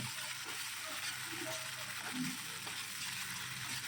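Pabda fish being stirred in a mustard and poppy seed paste in a pan, a faint continuous sizzle and fry with soft scraping and occasional light knocks of the spoon.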